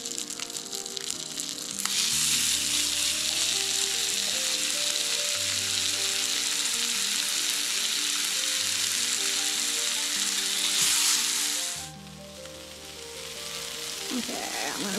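Sausage patties frying in a pan give a loud, continuous close sizzle that swells as they go in and eases near the end, with a few soft clinks and no talking.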